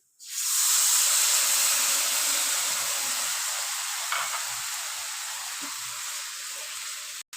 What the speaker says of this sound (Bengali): সাবুদানাগুলোকে বয়েল করে নিচ্ছি